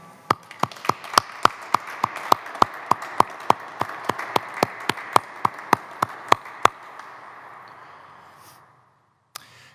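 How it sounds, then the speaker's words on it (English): Applause for the 2020 graduating class at a commencement ceremony comes as a slow, evenly spaced series of sharp, crisp claps from what sounds like a small group, close by, ending in near silence with one last faint knock. "please join me in a round of applause for the entire graduating class of"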